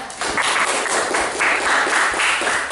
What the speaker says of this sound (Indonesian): Tuh, tepuk tangan untuk Mbak Zainat.